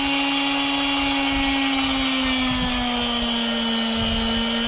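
A steady, loud buzzing drone from an Ingco MF3008 oscillating multi-tool running nearby, its speed being adjusted, its pitch sliding slightly lower over a few seconds.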